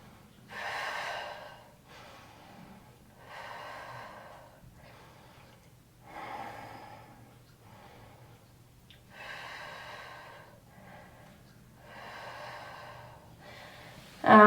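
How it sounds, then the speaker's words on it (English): Steady rhythmic breathing during an intermediate mat Pilates exercise, with repeated audible inhales and exhales spaced about every two seconds over a low constant background hum. "Breathing."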